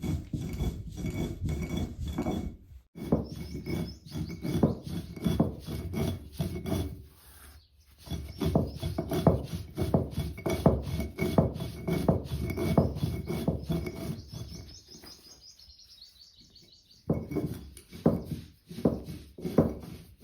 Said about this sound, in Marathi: जितकी बारीक होईल ना तेवढी बारीक आपल्याला चटणी वाटून घ्यायची.